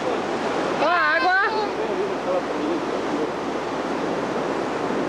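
Sea waves wash steadily onto a beach in Torres, a broad continuous roar of surf with wind buffeting the microphone, and a voice calls out briefly near the start.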